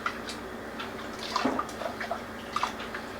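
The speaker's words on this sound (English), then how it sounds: "Let's rinse that off into the pot." Water splashes and trickles as chili sauce is rinsed from a blender into a soup pot for a Mexican taco soup. Soft running water is broken by a few brief clinks and drips nearby, with no speech.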